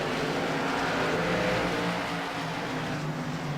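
Race cars roar steadily at Langley Speedway during a CRA short-track event, a dense, continuous engine drone from the pack filling the air at strong, even volume with no talk over it.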